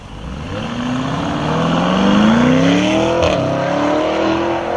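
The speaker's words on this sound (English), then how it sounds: "Oh shit, it's a Urus." A Lamborghini Urus pulls away, its engine rising in a loud revving sweep that climbs steadily in pitch as it accelerates off, close by and alone.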